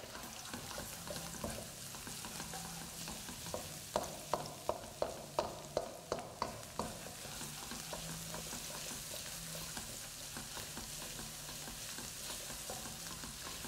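Chopped onion and squeezed garlic sautéing in a pan before arborio rice is added: a soft continuous sizzle with a quick run of spoon taps and stirs in the middle.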